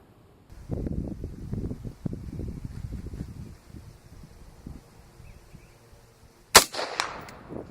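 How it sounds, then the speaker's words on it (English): A single sharp, loud rifle shot rings out near the end against an AR500 steel target, after several seconds of outdoor rustling and wind noise. "Shoot the gun."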